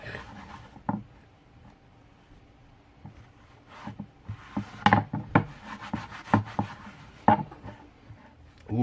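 Something is rubbed and worked into the cracks of a wooden puzzle, giving quiet scraping and rubbing strokes with scattered sharper knocks and taps, close and irregular.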